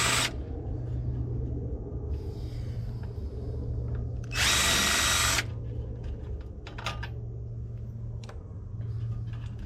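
A power drill backing Phillips screws out of a chipper shredder engine housing, short whirring bursts with one longer high-pitched run near the middle, over a constant low hum, close by.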